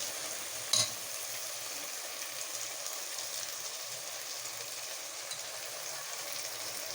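Tomato sauce sizzles steadily in a frying pan for a dish of mbakbaka, a continuous broadband hiss with one sharp clink of the stirring utensil near the start.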